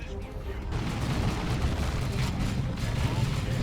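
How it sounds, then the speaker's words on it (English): Bolt pistol shots fired into enemy shooters in a Dawn of War 2: Retribution 1v1 match, a dense rumble of battle gunfire and booms packed together with commentary talking over it. "Bolt pistol shots into those shooters they don't like at all."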